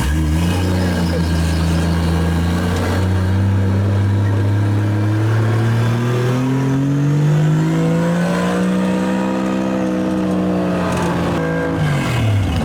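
A Lexus IS300 drift car's engine runs close by at a steady, loud idle, then revs in long sweeps that rise and fall in pitch, carrying on without a break and with no talk over it.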